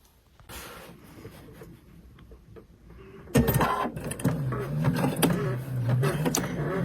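A Pfaff sewing machine stitches a rail fence quilt block. At first there is quiet handling, then a loud, fast, steady mechanical whir of stitching runs to the end.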